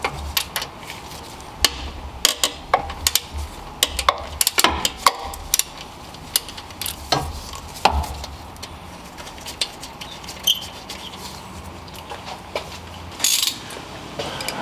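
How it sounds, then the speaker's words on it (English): A ratchet works loose the alternator bolts on a 2006-2012 Toyota Camry with a 2AZ-FE engine, giving sharp, irregular metallic clicks and knocks in short bursts, with quiet pauses between. "I switched to a shorter ratchet because there's not much room in here."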